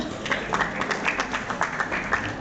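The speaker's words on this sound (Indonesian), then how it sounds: "Boleh kasih tepuk tangannya dulu." Steady audience applause at a candidate debate, with dense, overlapping claps at moderate loudness, sustained evenly throughout.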